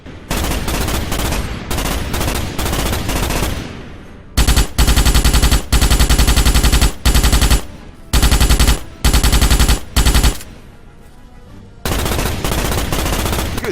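Automatic weapon fire shooting bugs in the Starship Troopers PC game, with loud, close bursts of rapid machine-gun shots separated by brief pauses.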